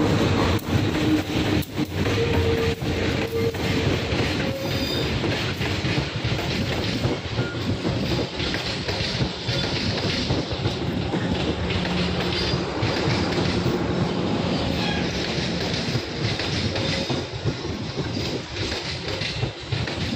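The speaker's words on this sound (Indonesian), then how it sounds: "Kereta Serayu." The Serayu passenger train runs steadily along the rails, a continuous loud rumble with rhythmic clickety-clack of the wheels and occasional faint squeals, with no voices.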